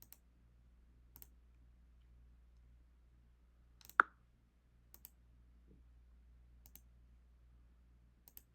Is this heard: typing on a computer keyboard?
yes